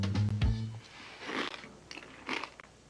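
Crisp crunching bites of lightly frosted Kellogg's cereal, a few sharp crunches followed by softer chewing, close and fairly quiet.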